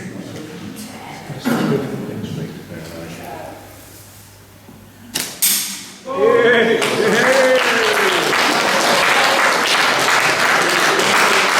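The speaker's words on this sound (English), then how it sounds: "the entire room just burst into spontaneous applause" A room at a British catapult association shoot in Newport breaks into loud, sustained applause after a quieter stretch with brief knocks and some talk.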